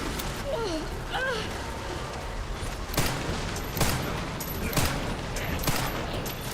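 Enemy gunfire in a Resident Evil game, a series of sharp shots spaced roughly a second apart, loud and close, over a busy background with a voice talking early on.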